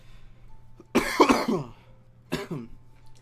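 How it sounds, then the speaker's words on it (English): Two bursts of coughing, a longer rough fit followed by a shorter cough, close up with quiet pauses between. "still going to be coughing a bit"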